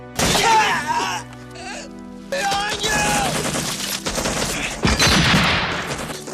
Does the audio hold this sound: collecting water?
no